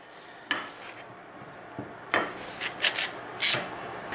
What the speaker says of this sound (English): We're just gonna lay our file onto the blade